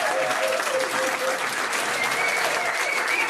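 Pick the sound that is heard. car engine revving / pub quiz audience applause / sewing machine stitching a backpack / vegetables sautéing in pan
pub quiz audience applause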